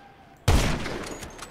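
A single sniper rifle shot fired at bicycle wheels in GTA 5, a sudden loud crack after a quiet start, followed by a long decaying roar of echo.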